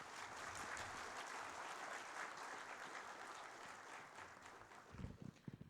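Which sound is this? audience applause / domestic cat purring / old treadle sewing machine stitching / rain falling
audience applause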